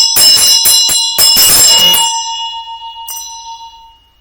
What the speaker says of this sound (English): And then I'm going to ring the bell